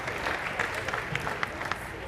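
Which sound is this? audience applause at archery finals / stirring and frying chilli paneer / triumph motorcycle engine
audience applause at archery finals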